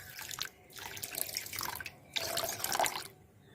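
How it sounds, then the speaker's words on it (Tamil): Water splashes from a glass into a pan of sugar while making syrup for Bombay halwa, a close, soft pouring rush in two bursts separated by a short pause. "2 கிளாஸ் தண்ணி கலந்துக்குவோம்."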